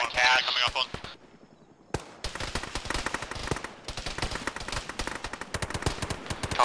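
Rapid bursts of automatic gunfire and single shots from high ground crackle through a firefight in the military video game Arma, loud and continuous after a brief lull, with distant reports mixed in.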